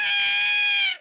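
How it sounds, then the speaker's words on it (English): A cartoon cat, woken from sleep inside a dustbin, lets out a single loud, sustained yowl that holds steady for about a second and then cuts off. "This wakes up a cat who was sleeping in a dustbin."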